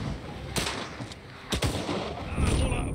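Gunfire in the World War II video game Partisans 1941 sounds off in several sharp, booming shots at irregular intervals over a rumbling combat background.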